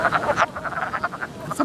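Wood frogs croak at a vernal pool in a quick, rhythmic series of raspy, duck-like clucks, close and fairly loud with no talking.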